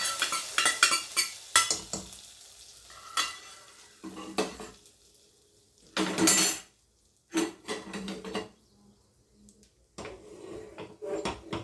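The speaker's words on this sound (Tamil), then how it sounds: "இப்போ கருவேப்பிலையை போட்டு நம்ம பொங்கலில் ஊற்றிடலாம்." A fried tempering of curry leaves, cumin, pepper and cashews goes into mixed millet pongal, with intermittent clanks of pan and spoon, brief sizzles and scraping stirs separated by quiet gaps.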